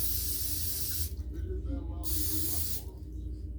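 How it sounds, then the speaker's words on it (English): Two bursts of hissing spray aimed at a jackfruit, each about a second long, loud and close, with a steady low background and a voice heard faintly between them. "I'm gonna spray it"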